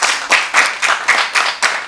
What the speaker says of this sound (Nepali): जोरदार ताली दिएर सम्मान